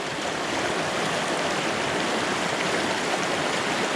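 Turbid water rushes steadily along Big Fishing Creek in Pennsylvania, a dense, continuous broadband wash close by with no voices.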